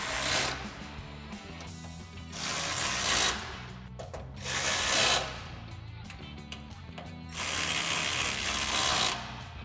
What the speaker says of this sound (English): grab a 4mm Allen bit to tighten down our bolts